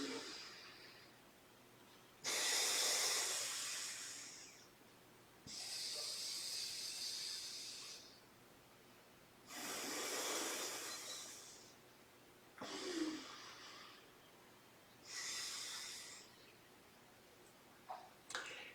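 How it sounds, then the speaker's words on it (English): Five slow, airy breaths drawn and pushed through one nostril at a time during yoga alternate nostril breathing, each a hissing rush lasting a couple of seconds, separated by quiet pauses, heard close to the microphone. "you keep doing alternate nostril breathing with your left hand"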